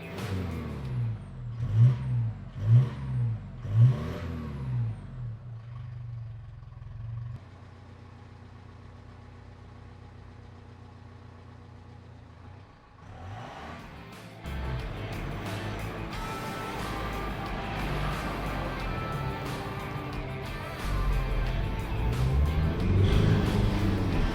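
A Mitsubishi Triton fitted with a new aftermarket exhaust and turbo-back system cranks with a few rhythmic engine pulses, then starts and settles into a steady, loud idle with throaty rumble, rising toward a revving tone near the end, close by.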